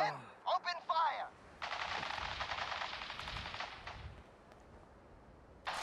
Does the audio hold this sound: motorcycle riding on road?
no